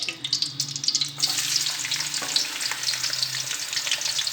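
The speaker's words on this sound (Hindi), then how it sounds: "घी हमारे गर्म हो चुका है, अब इसमें प्याज ऐड करते हैं।" Onions dropped into hot ghee, a few sharp spits giving way to a dense steady sizzle with faint stirring, close and continuous, no talk.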